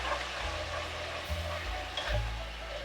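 Pork drippings sizzle steadily in a pan for gravy, an even frying hiss with soft low thumps and no one speaking.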